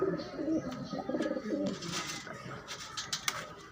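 Pigeons cooing close by in short soft phrases, with a few chirps, while a person talks quietly over them.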